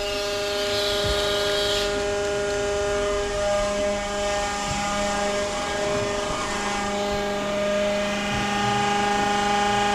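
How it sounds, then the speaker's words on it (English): Electric fuel pumps on a Duramax diesel build run together in a loud, steady, close hum with fixed pitches and a rough mechanical undertone, never stopping. "now that we know there's fuel in here, let's turn on that other fuel pump. We'll just run both pumps."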